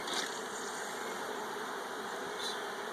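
Honey bees buzzing around a swarm trap hive as frames are worked, a steady close droning hum that holds evenly throughout.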